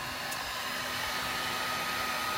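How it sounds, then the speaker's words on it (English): A heat gun for stripping paint from furniture runs steadily with a continuous airy whir and faint tonal hum, close and unchanging throughout. "get the heat gun out because it works so well"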